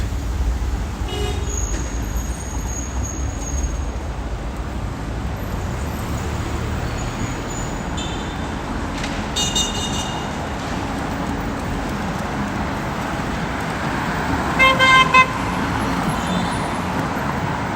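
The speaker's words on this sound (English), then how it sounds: "Oh, the honking, I hate it." Car horns honk repeatedly amid steady street traffic on a Wuhan road, short toots near the start and a louder burst of honks later over a constant roar of passing vehicles.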